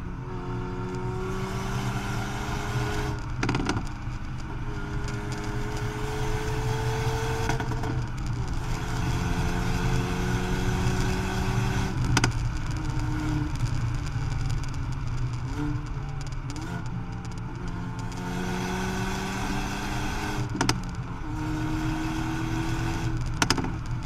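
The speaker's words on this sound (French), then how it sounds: "Découvrez maintenant le bruit de l'échappement." Hyundai i30 N hot hatch with a steady engine and exhaust note running throughout, with several rising rev sweeps and brief shifts between them, heard fairly close with no talking.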